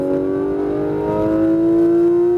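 A Porsche 911 GT3 RS (991) accelerates on a track, its engine note rising in one loud, close, steady pull with a clear climbing tone.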